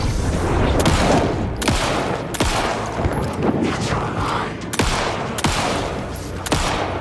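Gunfire in the Alan Wake 2 video game, with a burst of rapid shots and then sharp single cracks repeating every second or so, loud and close over a dense rumbling game soundscape.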